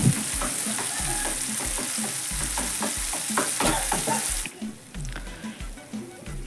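A spoon scrapes and stirs vegetables with turmeric in a sizzling frying pan with repeated clattering strokes, close up, while frying hisses steadily underneath.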